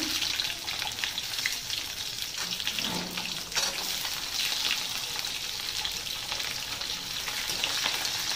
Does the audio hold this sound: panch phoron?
yes